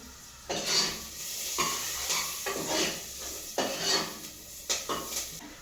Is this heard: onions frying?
yes